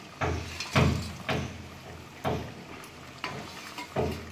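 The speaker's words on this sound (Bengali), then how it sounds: "এবার আমি বড়াগুলো, ভেজে রাখা বড়াগুলো দিয়ে দিচ্ছি" Fried lentil fritters drop into a boiling ridge gourd and potato curry, giving about six soft, separate splashy thumps with a low bubbling simmer beneath, close and moderately loud.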